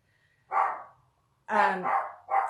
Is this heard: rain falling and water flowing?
no